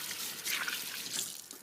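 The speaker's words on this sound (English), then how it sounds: "Right, just wash my hands." A tap runs steadily as hands are washed under it in a kitchen, giving a soft, close splashing wash of water for a brief moment.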